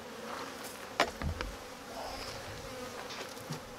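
Honeybees buzz in a soft, continuous hum around a newly installed hive during an inspection, with a few light knocks and taps nearby.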